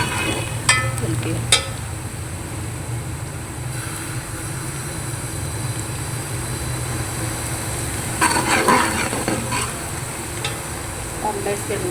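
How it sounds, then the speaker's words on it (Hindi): Onions sizzle and fry steadily in a pan, a soft continuous crackle with a few sharp clinks of a spoon stirring at the start and later a clattering burst of stirring. "तो माशाल्लाह से मेरे प्याज भी ब्राउन हो रहे हैं"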